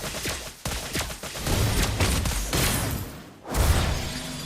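Volleys of gunshots in Mobile Legends rattle out in dense clusters, with a sharp shattering impact and a short lull before another loud burst, mixed with other in-game effects.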